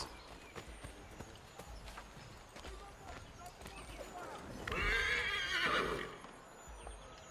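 Steady hoofbeats clip-clop along, then a horse lets out a loud, drawn-out whinny near the end, over a constant background noise, in the video game Assassin's Creed III Remastered.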